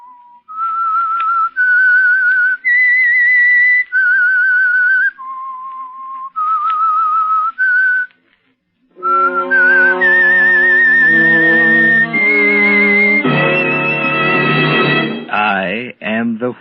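A clear whistled melody of sustained, stepping notes, the signal of the radio program The Whistler, then a brief pause before an orchestral phrase swells in with long held chords.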